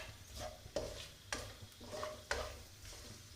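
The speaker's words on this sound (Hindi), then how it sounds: "अब इसमें ये खड़े मसाले जाएंगे थोड़े से, इनको हम रोस्ट करेंगे" Whole spices roasting in melted ghee for a quick chicken dish, a quiet low sizzle punctuated by four or five distinct spoon taps and scrapes against the pan at a slow, even pace.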